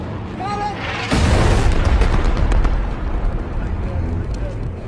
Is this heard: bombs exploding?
yes